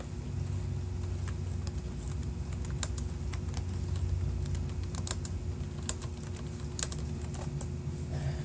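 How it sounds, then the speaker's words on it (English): Keys on a computer keyboard clatter in quick, irregular bursts of taps, close but fairly quiet, over a faint low background hum with no talking. "I'm typing this in."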